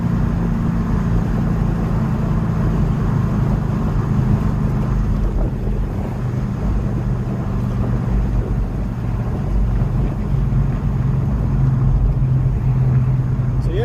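A Nissan G35/350Z VQ engine with Manzo cat-delete test pipes drones loudly at full throttle in fourth gear up to around 4,000 RPM, a steady, raspy exhaust roar mixed with wind buffeting on the microphone.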